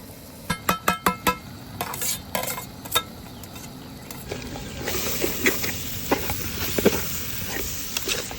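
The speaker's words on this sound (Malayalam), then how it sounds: "നല്ലപോലെ അങ്ങോട്ട് ഇളക്കി സെറ്റാക്കി കൊടുക്കുക" Mussel meat being stirred into masala in an oiled pan, opening with quick metallic clinks of a utensil, then scraping stirs over a soft, growing sizzle, close up.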